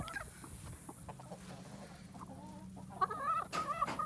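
Hens clucking softly at a moderate distance, with a few sharper squawks near the end over low rumbling background noise.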